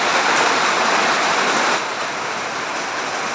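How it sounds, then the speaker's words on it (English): Heavy rain pours down in the Philippines as a dense, loud, hissing roar. It stays constant and close, with only a slight dip partway through and no talking. "it started raining very strongly"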